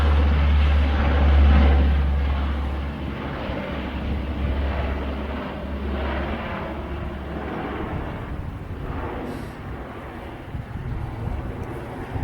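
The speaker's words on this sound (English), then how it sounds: "And there goes another plane." Low, broad roar of an airplane passing overhead, loudest at first and slowly fading while staying steady throughout.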